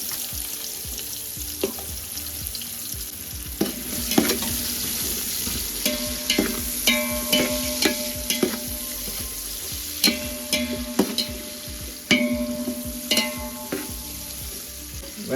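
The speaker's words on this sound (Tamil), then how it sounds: "வெங்காயம் நல்லா பொன்னிறமாக வதங்குற வரைக்கும் வெயிட் பண்ணுறோம்." Onions fry with cinnamon and cloves in a pan for quail biryani, a constant sizzle broken by a run of sharp, rhythmic scraping and clacking strokes from a stirring spoon, close up with no talk.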